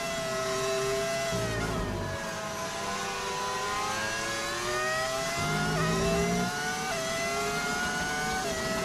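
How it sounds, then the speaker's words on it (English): Modded V10 engine sound from an F1 25 racing video game car. It plays steadily throughout, with whining engine tones rising and falling through revs and gear shifts and no talking. "Did you add a mod to get the V10 sound?"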